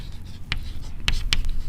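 Chalk or marker taps and scratches on a board during a physics lecture on kinetic theory and thermodynamics, a few short strokes, fairly quiet, with no talking.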